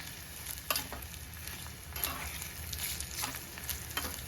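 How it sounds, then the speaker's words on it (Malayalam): Grated coconut roasts in a pan for Kerala-style kaya erissery, a steady close sizzle and crackle with occasional scraping stirs, no voices. "തേങ്ങ ഇതിനകത്ത് തന്നെ കിടന്ന് നന്നായിട്ടൊന്ന് മൂത്ത് വരണം"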